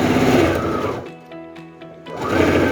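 Sewing machine stitching a seam on a fabric placemat, a loud close buzzing whir that slows to a softer, stuttering run in the middle, then speeds back up.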